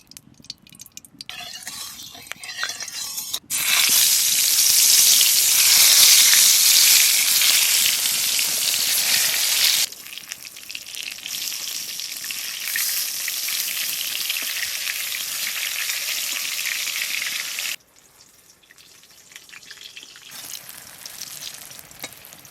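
Eggplant slices fry in a pan for a village morning breakfast, a loud steady sizzle that swells, holds, then drops to a softer crackle with faint clinks, no talking.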